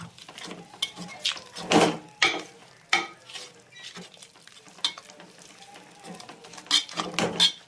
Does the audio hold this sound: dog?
no